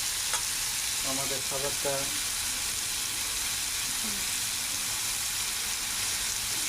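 Fish roe frying in oil in a pan gives a steady, close sizzle that runs the whole time, with a brief stir or splash now and then and a voice talking briefly over it.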